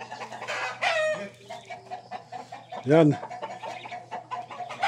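Farm chickens at a countryside home clucking intermittently close by, with one louder squawk-like call standing out midway, while people talk over them.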